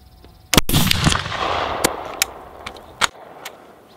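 A Dreyse M1841 needle rifle fires a single loud, sharp shot during a shooting test, followed by a decaying echo and a few fainter pops and clicks.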